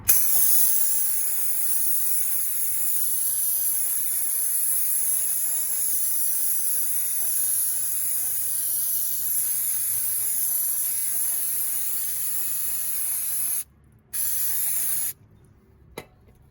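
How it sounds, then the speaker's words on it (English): Brake cleaner sprays from an aerosol can around a front wheel hub assembly on a Ford Explorer with the 4.0L engine: a steady, loud, close hiss that runs without a break, cuts out briefly near the end, then returns in one short final burst. "go ahead and use your brake cleaner"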